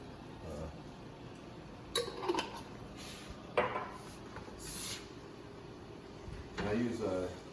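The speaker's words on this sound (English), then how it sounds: "I'm going to put the mushrooms in." Canned mushrooms tipped into a cooking pan for a dirty rice casserole in a home kitchen, giving scattered clinks and metallic knocks of can and cookware, fairly faint, with a few sharper clatters.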